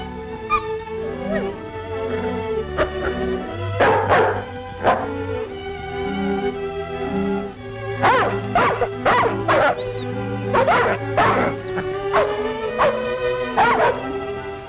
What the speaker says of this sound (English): At least we've got our dog team.